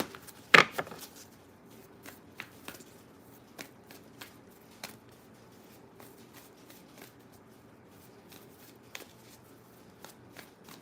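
Moon oracle cards are shuffled in one brisk riffling burst near the start, followed by a few soft, scattered taps and card clicks against a quiet background.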